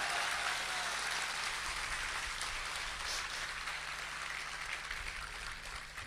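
An audience at a poetry rally in Kolkata claps together, a steady, fairly distant wash of applause that holds evenly and tapers slightly toward the end, with no voices over it.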